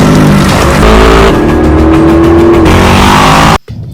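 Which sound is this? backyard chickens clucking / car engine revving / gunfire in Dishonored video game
car engine revving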